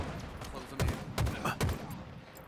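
Gunfire in a Halo match sounds as a few dull, booming shots spaced roughly evenly, moderately loud over steady background game noise, with a voice talking faintly underneath.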